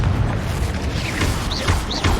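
A Confringo blasting spell explodes in the Hogwarts Legacy game, giving loud, continuous rumbling blasts with crackling debris, and whooshing spell sounds rising near the end.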